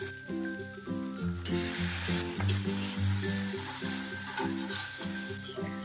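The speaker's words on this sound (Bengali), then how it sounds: "সব স্লো টু মিডিয়াম ফ্লেমে 2 মিনিট মতো ভেজে নেব।" Vegetables and chopped capsicum frying in a pan over slow to medium flame, a steady close sizzle with rhythmic stirring scrapes and clinks, no voices.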